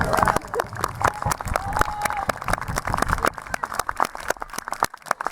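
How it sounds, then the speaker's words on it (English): Scattered applause from a crowd at an outdoor English Civil War re-enactment, uneven claps rising and thinning over several seconds, mixed with voices and background chatter. "Give them a round of applause for dying"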